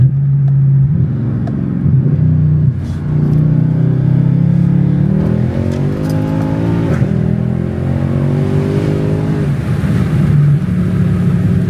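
Mercedes C63 AMG engine revving and accelerating loudly, a steady low drone rising through several climbing pulls with no talk.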